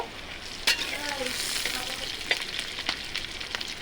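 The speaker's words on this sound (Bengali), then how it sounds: "দেখেন পেঁয়াজটা কিন্তু ভাজি হচ্ছে" Onions frying in a pan for a village-style cow udder dish, a steady close sizzle with a few sharp clinks of a utensil against the pan.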